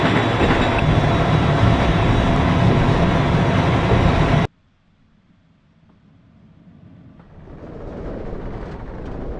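Interior of a MARC Penn Line commuter train accelerating between Washington DC and Baltimore: steady loud rumble and roar for several seconds, then an abrupt drop to a quiet hum that slowly swells again as speed builds.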